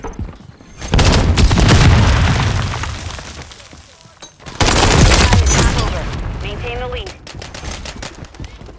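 Heavy gunfire in Call of Duty MW3, dense sustained bursts with booming impacts in two long loud stretches split by a short lull, close and overwhelming.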